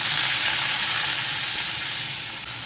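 Tender gram greens mixed with a little spinach hit hot oil with nigella seeds and chilli, giving a loud, dense, continuous sizzle and hiss close by that eases slightly near the end, with no voices.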